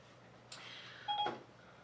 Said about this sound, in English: I don't know why Siri just came on my phone